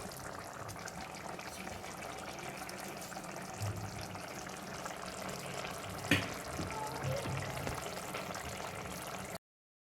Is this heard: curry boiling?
yes